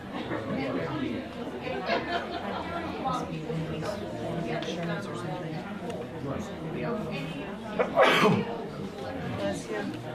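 A single sharp sneeze bursts out about two-thirds through, amid steady crowd chatter and people talking at a special town meeting.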